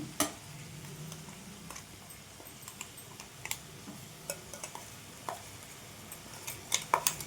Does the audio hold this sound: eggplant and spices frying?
yes